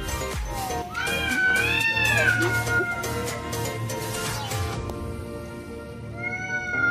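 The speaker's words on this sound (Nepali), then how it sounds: "खतरै घर बिरालो मेरो।" A house cat meows repeatedly in drawn-out, wavering cries, close and loud, with faint background noise.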